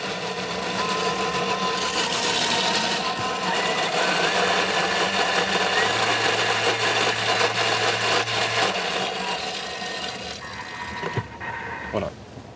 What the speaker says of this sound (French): on mixe un coup très vite et après on a notre sauce verte